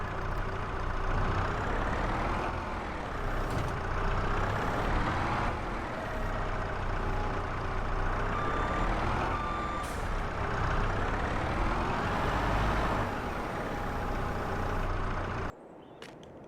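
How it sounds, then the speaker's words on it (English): A truck loaded with hay reverses to dump its load: a steady engine drone under repeated reversing beeps and occasional air-brake hisses, close and continuous, cutting off near the end. "I'll just signal to Scott to reverse it up, dump it here"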